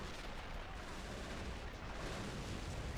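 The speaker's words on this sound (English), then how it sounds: "I love it when these two howitzers fire" Two howitzers fire a volley during a World War II Stalingrad defense battle in the strategy game Men of War, producing a dense, continuous rumbling barrage of overlapping booms at moderate volume.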